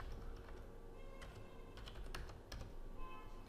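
Quiet, steady typing on a computer keyboard, with scattered light key clicks and a few sharper taps over a faint background hum.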